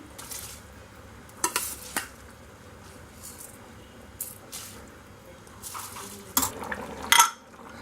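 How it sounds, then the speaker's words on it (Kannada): Washed rice goes into boiling water in a pressure cooker for chana pulao, followed by quiet stirring with soft scrapes and a few light metallic clinks against the pot. "ನೀರು ಕುದಿತಾ ಇದೆ, ಈ ಟೈಮಲ್ಲಿ ತೊಳೆದಿಟ್ಟಿರುವಂಥ ರೈಸ್ ಹಾಕ್ಕೊಳ್ಳೋಣ."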